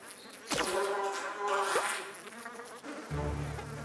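A cartoon bee buzzes steadily and fairly loudly, its whining drone rising and falling as it moves close to the listener over a few seconds.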